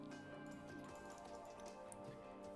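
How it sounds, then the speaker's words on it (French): Light rain in the racing management game F1 Manager 24, a steady soft patter of drops heard throughout, with faint ticks and drips over a low, continuous background bed. "J'ai oublié qu'il pleuvait."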